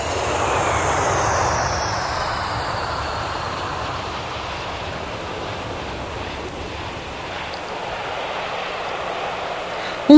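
A steady, loud roar of an airplane engine continues throughout, a broad droning whoosh that slowly eases, with no talking.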